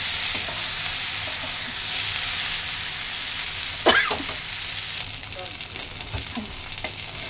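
Eggplant cooks in a pan with a steady, close sizzle, broken by a brief scraping stir partway through, after which the hiss drops to a quieter, muffled simmer with scattered light knocks.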